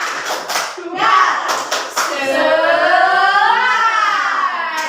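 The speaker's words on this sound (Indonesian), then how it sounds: "aplaus untuk semuanya" Children in a classroom clap a short rhythmic spirit cheer, a few quick group claps, then shift into a sustained chanting, singsong vocal cheer that rises and falls, loud and close.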